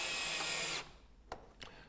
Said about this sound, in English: we'll then tighten the first screw